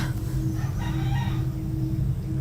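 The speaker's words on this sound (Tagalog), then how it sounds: "Gina, yung mga manok!" Chickens cluck and a rooster crows nearby over a steady low hum, with layered bird calls rising and falling for a couple of seconds.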